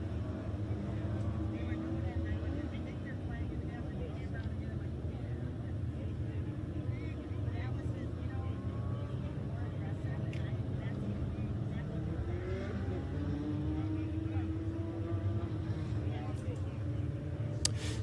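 Legends race cars idling and rolling slowly through the 141 Speedway infield during a caution, a low continuous engine rumble with shifting tones, moderately loud throughout.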